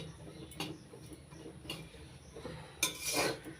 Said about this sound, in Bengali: লবণ আর এলাচ গুঁড়ো দিয়ে নাড়াচাড়া করে মিশিয়ে নিয়েছি।